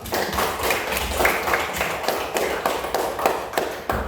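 A class of children applauds a correct answer with steady, rhythmic clapping, many hands striking in loose unison at a close, moderately loud level for about four seconds.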